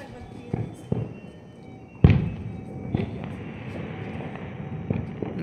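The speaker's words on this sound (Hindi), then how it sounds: "ये पहले स्टार्टिंग में से कुछ स्पार्कल छोड़ता है, उसके बाद दन ये कहीं जाके ब्लास्ट होता है।" Diwali firecrackers going off outdoors during a family celebration: a few dull thuds early on, then a sharp loud bang near the middle followed by smaller pops and crackles, with faint voices in the background.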